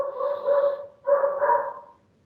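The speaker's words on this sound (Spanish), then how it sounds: "Perdón si escuchan mi perro, ¿sí? Ese es mi perro ladrando." A dog barks at home, two drawn-out, howl-like barks in a row, fairly close and clear with no talking.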